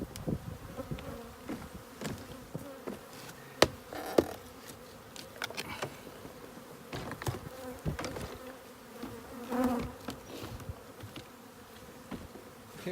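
Swarm of bees buzzing steadily around a hive being removed at Mill Reef, Antigua, with a dense continuous hum broken by a few sharp knocks and bumps, close to the recorder.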